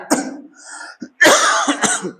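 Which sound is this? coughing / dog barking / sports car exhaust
coughing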